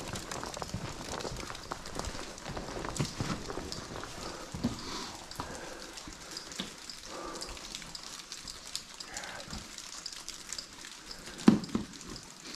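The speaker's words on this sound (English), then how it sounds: "It's raining in here." Water drips and patters like rain inside an old, partly collapsed train tunnel, with scattered drops and soft splashes over quiet echoing hiss, faint and steady throughout, with no talk.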